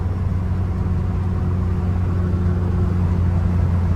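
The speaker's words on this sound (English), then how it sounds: "Oh, that turbo noise. Hope you guys can hear that as well as I can." A 1986 Dodge Daytona Turbo Z driving down the road, its engine droning steadily with a faint turbo whine over a constant low rumble from inside the car.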